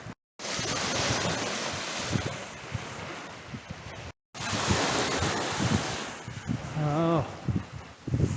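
Ocean waves and surf roll onto a hurricane-eroded beach after Hurricane Ian, heard as loud, close washing noise with heavy wind buffeting on the microphone, two brief dropouts, and a person speaking near the end.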